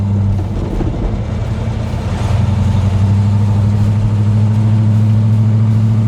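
A restored 1963 Plymouth Belvedere with a 426 Max Wedge V8, solid lifters and carburetors, cruising at steady low throttle, a loud continuous deep engine drone close by with no voices.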